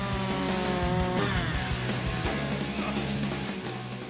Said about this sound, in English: I get to use my chainsaw.